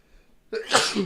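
A single sharp human sneeze bursts out after a quiet moment, close and loud, with a brief intake followed by the forceful explosive release.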